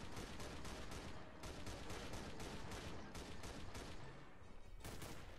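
Rapid bursts of automatic gunfire from Counter-Strike: Global Offensive, dense and continuous for several seconds with short rhythmic volleys, loud and close, easing slightly near the end.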